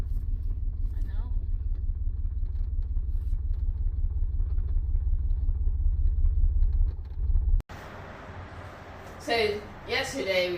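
A 2003 Chevrolet S10 extended-cab pickup with a V6 and five-speed runs in reverse, its engine giving a steady low rumble close by for several seconds. The sound cuts off abruptly, and voices talk over wind noise afterward.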